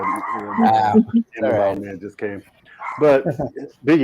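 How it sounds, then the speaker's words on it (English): A dog barks in short bursts close by, overlapping with someone talking during an indoor conversation. "Excuse my dog."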